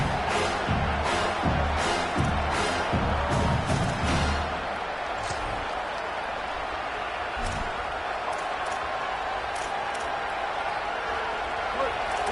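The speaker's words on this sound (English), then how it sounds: "Listen to this crowd just shaking the girders of this place, trying to help their defense." A large stadium crowd at a football game roars in a dense, continuous wash of noise, with a few thumps and claps early on, steady and loud throughout.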